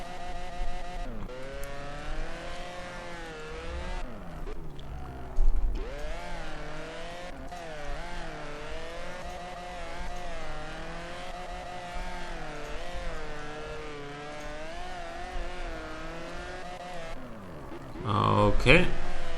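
A car's engine revs and wails with squealing tires while drifting on a touge mountain road in the Drift Streets Japan video game, rising and falling continuously under someone talking.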